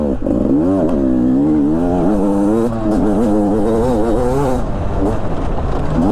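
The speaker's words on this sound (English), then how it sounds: "this definitely seems like it's the fastest bike they have here" A Beta 300 RR Race Edition motorcycle engine under way while riding, a loud, close, continuous buzzing drone whose pitch rises and falls with throttle changes and briefly dips before revving again.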